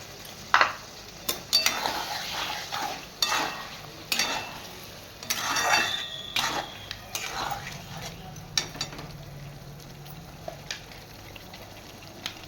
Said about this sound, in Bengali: আমি এখানে কাপ ধোয়া জলটা দিয়ে দিচ্ছি মশলার।